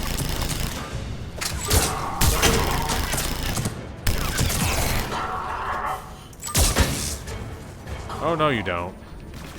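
Hurricane machine pistol firing in rapid bursts in Mass Effect 3, loud and close, mixed with combat explosions and clatter, with a brief spoken line near the end.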